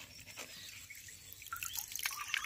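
Water drips and trickles while a koi fish is washed, soft irregular plinks close by over a quiet background, growing a little busier toward the end.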